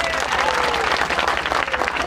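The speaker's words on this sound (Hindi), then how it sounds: "ताली बजाइए" Dense, loud crowd applause at an outdoor political rally in India, steady clapping filling the space with a low hum underneath and voices mixed in.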